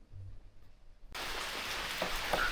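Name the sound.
heavy rain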